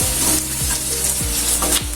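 Chicken fry with ground masala being stirred in a pan for Andhra-style chicken vempudu, a steady sizzle with repeated scraping strokes of the spoon roughly every half second, close and loud.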